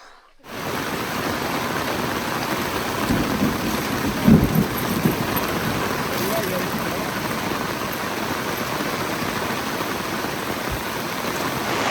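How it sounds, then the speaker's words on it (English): Heavy rain drumming hard and continuously on an awning on an offroad camping weekend in the Ozarks, a dense wash of noise with one brief louder knock partway through. No thunder is distinct. "Well, it started raining really hard."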